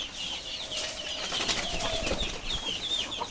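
Backyard chickens flapping their wings as they fly up to a higher perch, a run of quick fluttering wingbeats with faint clucks nearby, no talking.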